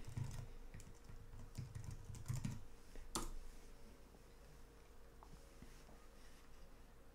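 Rapid keystrokes on a computer keyboard while coding in RPG on an IBM i (AS/400) system: a busy burst of clicking typing near the start, then sparser, fainter key taps in a quiet room.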